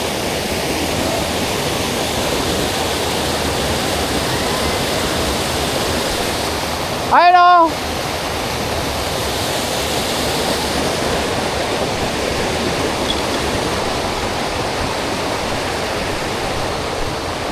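Steady, full rushing of Imugan Falls fills the whole stretch, broken once by a brief tonal blip partway through.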